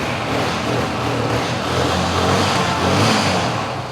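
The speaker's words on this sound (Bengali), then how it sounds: "সেলফে সেলফে স্টার্ট দেওয়া তারপর নেবেন ইঞ্জিনের সাউন্ডটা খুবই ভালো" A TVS Apache RTR motorcycle engine runs after a self-start, a loud continuous mechanical drone close by with slight swells in pitch and no talking over it.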